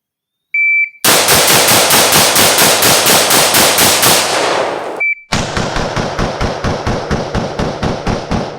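M14 rifle firing rapid shots on a range: a fast, evenly spaced burst of loud cracks, a brief pause after a short electronic beep, then a second rapid string of shots, close and with no talking.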